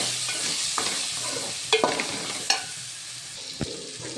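Chickpeas are stirred into a sizzling pan of masala for Punjabi chole, with a steady frying hiss underneath a few sharp scrapes and clacks of the spoon, close up and without speech.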